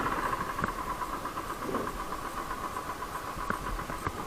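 Engine of a 2018 Royal Enfield Thunderbird 350 motorcycle with about 8,266 km on it, heard while riding: a steady, continuous engine drone with wind and road noise, fairly loud throughout and with no talking.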